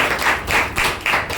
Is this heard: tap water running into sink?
no